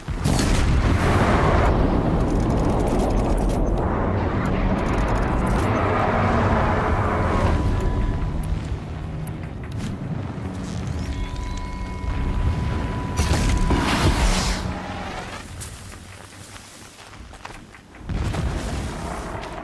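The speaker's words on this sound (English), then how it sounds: "Explosions in the distance." Distant explosions in Horizon Zero Dawn roll out as deep booms and long rumbling swells under a loud, dense game soundscape, fading toward the end before one last heavy thud.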